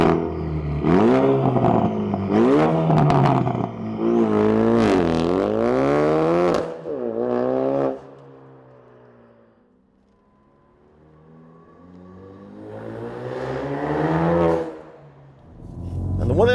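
Ford Focus RS fitted with a Borla ATAK 3-inch stainless cat-back exhaust, driven on the road. Loud rising revs climb through several gears, then the engine settles to a quiet cruise before another strong pull and fade.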